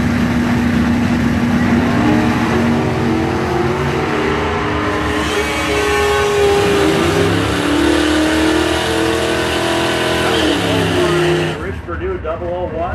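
Two Chevrolet Camaros, one a '67, drag race down the strip, their engines roaring loudly and steadily with rising revs through gear changes before cutting off abruptly near the end, under an announcer's voice.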